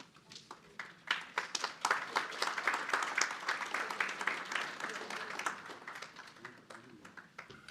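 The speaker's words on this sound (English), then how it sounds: "Applause, please." Scattered audience applause at a talent summit panel event, as a guest is invited on stage; a modest crowd clapping at moderate volume, building quickly then thinning out and fading toward the end.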